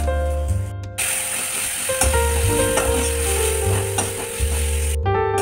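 Ginger, green chilies and nigella seeds sizzle in hot oil for a puti fish curry with onion greens, a steady close frying crackle with a few sharp pops, and a faint tonal hum running beneath.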